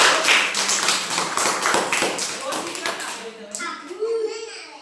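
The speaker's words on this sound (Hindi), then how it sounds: "ताली बजाओ।" Children in a classroom clap together in a brisk burst of rapid, loud applause, with kids' voices chattering through it before it trails off.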